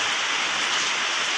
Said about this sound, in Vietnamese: Trời mưa nguyên ngày từ hồi sáng giờ luôn,